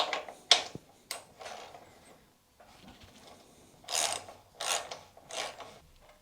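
The cover of the rear brake fluid reservoir on a KTM 250 SX dirt bike is worked off, giving a series of short close scraping, clicking and rubbing sounds in bursts separated by brief pauses.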